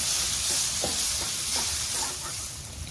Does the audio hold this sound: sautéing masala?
yes